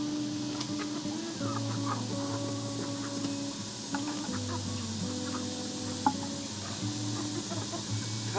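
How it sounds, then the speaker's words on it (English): Chickens, both roosters and hens, cluck and murmur in a coop on a woodland homestead, several birds calling in overlapping drawn-out tones against a low steady hum. "The roosters and the hens are doing good."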